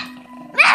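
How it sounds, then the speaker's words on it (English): A dog gives a single sharp bark near the end, loud and close, after a faint low growl in the background. "And there's Kaden barking too"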